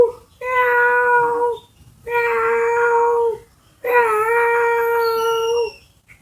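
A human voice imitates a small cat with three long, drawn-out mewing cries separated by short pauses, tonal and wavering, heard alone and close.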